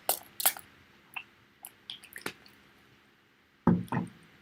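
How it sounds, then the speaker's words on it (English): A spritz bottle sprays water onto a distress-oxide craft card in short, sharp bursts, scattered close pumps and hisses spaced irregularly with a louder double spray near the end, no talking. "I'm going to give it a bit of a spritz with water"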